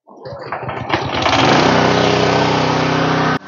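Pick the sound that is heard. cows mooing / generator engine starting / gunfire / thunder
generator engine starting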